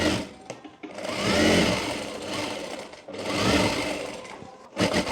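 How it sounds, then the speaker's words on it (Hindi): A sewing machine stitches seams on straight palazzo box trousers in two close, loud runs of rapid whirring, each starting and stopping sharply, with a brief burst at the end. "अब यहाँ पर 1-1 सिलाई कर लेंगे पहले।"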